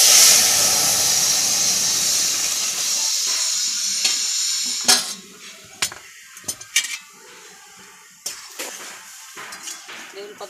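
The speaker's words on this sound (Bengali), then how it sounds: "এবার ডালটা তুলে দেবো।" Lentil dal with bottle gourd sizzling hard in a pan, a loud hiss that fades after about five seconds into scattered clinks and scrapes of stirring, with someone speaking over it.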